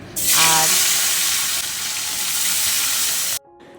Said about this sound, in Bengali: আসার পথে মাছ এনেছিলাম, কাতলা মাছ, আর বাড়িতে এসে সেই মাছটা এখন ভেজে নিচ্ছি